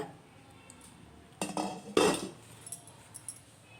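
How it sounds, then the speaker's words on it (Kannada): The lid of a cooking pot holding a jackfruit sweet is lifted off after cooking, with two close metallic clinks and clatters of the lid against the pot, then quieter handling noises. "ಇದು ಲಿಡ್ನ ಈಗ ಓಪನ್ ಮಾಡೋಣ."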